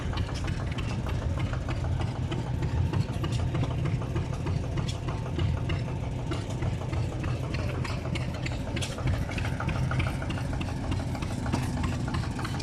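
Original vintage tractor engine idling at a steam era show, a steady, continuous low mechanical rumble with busy outdoor background noise, no talking.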